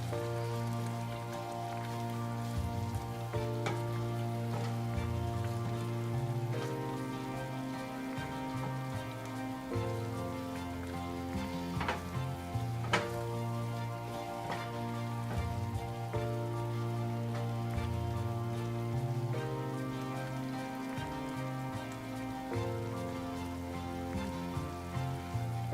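Goat liver frying in a pan, a steady, dense sizzle that runs unbroken for the whole stretch over a low background hum, close and even in loudness.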